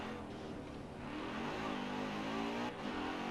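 Racing car engine in a driving video game, braking hard into a tight turn, a steady loud engine note with downshift-like pitch changes and a brief dip near the end.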